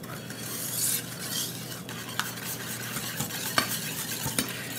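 A whisk stirs instant vanilla pudding with half and half in a bowl, producing a soft, continuous swishing scrape with small clicks of metal against the bowl, close and fairly quiet.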